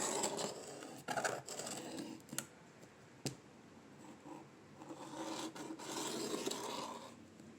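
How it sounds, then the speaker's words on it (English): A pencil traces around a picture on a Dollar Tree gingerbread man craft sign, giving soft scratchy rubbing strokes in bursts with a few small clicks, close and quiet. "just take a pen or a pencil and trace it."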